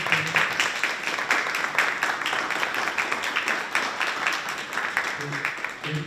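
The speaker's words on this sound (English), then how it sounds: "Could you please give them a round of applause?" Audience at a merger community meeting giving a round of applause, a dense, continuous patter of clapping from a room of people, steady and fairly close, with faint voices mixed in.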